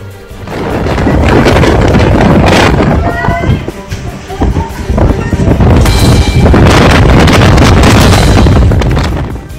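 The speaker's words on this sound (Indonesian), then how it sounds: "Angin kencang Kudus." Strong, gusty wind roars loudly and steadily across the whole stretch during damaging windstorm conditions in Kudus, Central Java, with rumbling low buffeting and occasional bursts, close and dominant.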